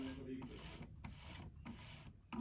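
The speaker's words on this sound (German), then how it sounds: "Das ist die Nähmaschine Brother Super Arche Special Edition." Brother Super Ace sewing machine that will only sew in reverse, running in short mechanical bursts of whirring and rasping, with stitching rattles separated by brief pauses, quiet and close.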